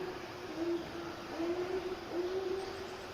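Repeated low hooting from an owl on the Appalachian Trail at night, a series of soft, drawn-out calls fairly close by against a steady background hiss, with no talking.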